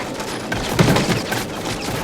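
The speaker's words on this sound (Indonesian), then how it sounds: "Kawan-kawan lainnya pun memberi tembakan perlindungan." A dense, continuous roar of distant World War II covering gunfire, like a sustained volley blending into a rumbling wash of noise.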